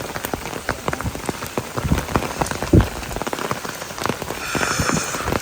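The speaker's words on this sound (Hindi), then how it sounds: "बहुत ही ज़्यादा बारिश हो रही है" Heavy cloudburst rain in Shimla pours down steadily and loudly, a dense close hiss of drops drumming on surfaces with a brief louder thump midway and no voices.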